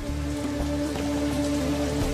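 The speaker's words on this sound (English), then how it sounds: "the reason for all this rain? The monsoon." Heavy monsoon rain falls steadily in the Nepal mountains near Everest, a constant patter of drops on surfaces with a faint steady hum underneath.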